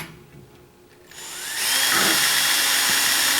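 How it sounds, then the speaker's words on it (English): A power drill fitted with a wood bit bores a pilot hole into wood: a quiet start, a rising motor whine, then a loud sustained grinding whir as the bit bites in. "Use a wood bit at this point to install them. We're going to drill a pilot hole."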